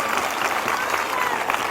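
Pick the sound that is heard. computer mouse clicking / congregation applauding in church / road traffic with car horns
congregation applauding in church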